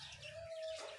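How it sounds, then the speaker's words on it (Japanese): A single bird chirps faintly outdoors, one short call with a thin sustained whistle-like tone over quiet background sound. "鳥の鳴き声が聞こえている。"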